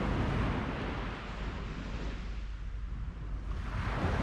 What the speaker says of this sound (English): noise from the waves